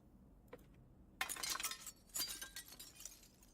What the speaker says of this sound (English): Get rid of the broken glass. We don't want to step on that.